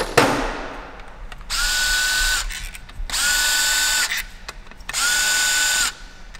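A power tool removing a stubborn bolt from a Lamborghini V10 engine runs in three steady whirring bursts of about a second each, separated by brief pauses with clicks and handling noise.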